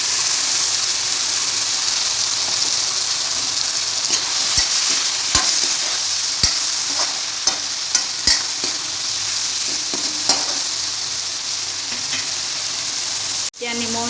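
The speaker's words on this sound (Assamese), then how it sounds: "এতিয়া মই পিঁয়াজখিনি ৰঙচুৱা হওঁতে এতিয়া মই পিচি লোৱা মছলাখিনি এতিয়া ঢালি দিম।" Ground spices hit browned onions in a pan for an Assamese chicken dry fry, sending up a loud, steady sizzle with scattered clicks and scrapes of stirring and a sharp knock near the end.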